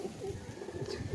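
A male homing pigeon in a home loft gives a soft, low throaty coo, repeated in short pulses close by over a faint room hum.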